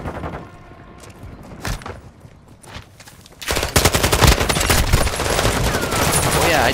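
Gunfire in the Modern Warfare 2 video game: a few scattered distant shots, then loud sustained automatic bursts of rapid machine-gun fire that keep going to the end.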